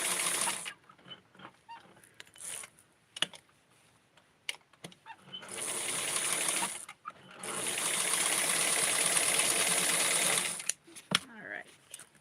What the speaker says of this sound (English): I'm sewing this to keep it down.